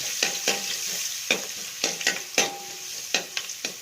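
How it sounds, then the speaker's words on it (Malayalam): Garlic and ginger fry in hot oil, sizzling steadily as a spoon scrapes and stirs them around the pan in quick, irregular strokes, close and fairly loud. "ഇനി നമുക്ക് ആ എണ്ണയ്ക്കകത്തേക്ക് വെളുത്തുള്ളിയും ഇഞ്ചിയും ഒരു ശകലം നേരം ഇളക്കാം."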